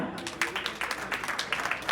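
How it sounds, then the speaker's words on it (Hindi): Audience applause for contestants at a televised show, a brief patch of uneven, moderately loud clapping from the crowd. "सबके लिए तालियां"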